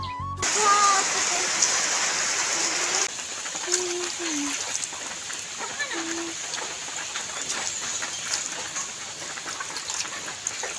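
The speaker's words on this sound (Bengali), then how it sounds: "ঠিক সেই সময় ঝমঝম করে বৃষ্টি নামলো" Heavy rain pours down on the day of the Rath Yatra chariot festival, a steady dense hiss that stays loud throughout, with faint voices and a few brief tonal sounds over it.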